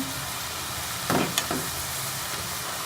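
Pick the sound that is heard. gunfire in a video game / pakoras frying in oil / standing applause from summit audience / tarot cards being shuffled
pakoras frying in oil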